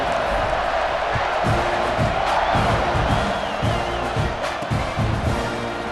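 A roaring stadium crowd in the College Football 26 video game, a steady wall of cheering and yelling with faint whoops, sustained and loud throughout with no break.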